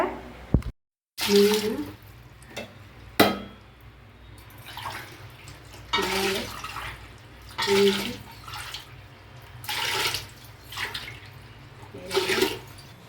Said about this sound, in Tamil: 21 டம்ளர் தண்ணியை ஊற்றிட்டேங்க.